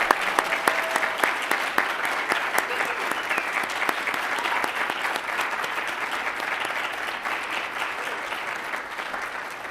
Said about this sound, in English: Everyone give them a big round of applause for all they've done.